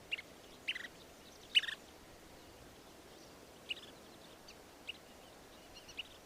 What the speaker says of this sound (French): C'est un petit oiseau qui vient sur nos côtes pour nicher.